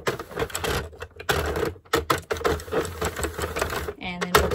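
A circular knitting machine is cranked slowly around, giving a rapid, rhythmic mechanical clatter broken by short pauses, with a person talking over it.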